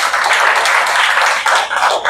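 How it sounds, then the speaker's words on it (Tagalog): An audience at a church youth music school gathering clapping hands together, a dense, lively round of applause at close range with a brief dip before resuming. "Taas kamay, palakpak para active."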